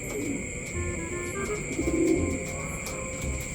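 Racing pigeons coo softly while being loaded into baskets for a race, their low murmuring calls building and fading over a steady background hum, with no talk.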